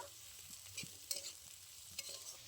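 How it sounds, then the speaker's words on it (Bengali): Turmeric and chilli powder stirred in hot oil in a pan, a quiet sizzle with a few soft spatula scrapes and taps spread across a short stretch, heard alone without talk. "এবার আমি দিয়ে দিচ্ছি হলুদ গুঁড়ো অল্প লঙ্কার গুঁড়ো অল্প খুব ভালো করে নাড়াচাড়া করে নেব"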